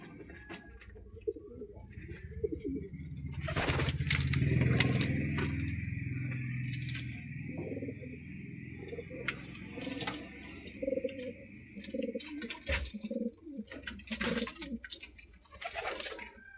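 Domestic pigeons cooing in a simple loft, repeated soft low throaty coos rising and fading over rustling and shuffling, close by, with a sustained high tonal hum and scattered clatter, no voices.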